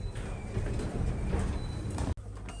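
Pickerings lift doors at the Riverside Park Hotel in Enniscorthy sliding open, a sustained mechanical rumble with a faint whine that breaks off sharply near the end, followed by a low hum.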